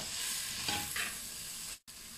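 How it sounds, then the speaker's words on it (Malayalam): Salted onions sauté in a pan for a chicken and potato curry, giving a steady close sizzle with a couple of scraping stirs before a brief cut to silence. "സവാള വഴറ്റിയെടുത്തിട്ടുണ്ട്."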